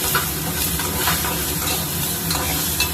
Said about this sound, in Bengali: এই যে পেঁয়াজ কুচিটুকু দিয়ে দিচ্ছি এই কুকারের মধ্যে একবারে আর কি ভেজে নিচ্ছি